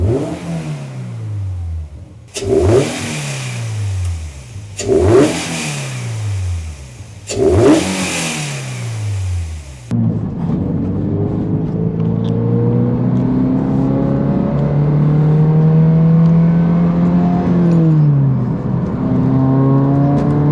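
A 2022 Subaru BRZ fitted with an Armaspeed carbon fiber intake revs in four sharp blips, each rising and falling quickly, then settles into a long, steady rising engine drone with a slight wavering pitch, loud and close.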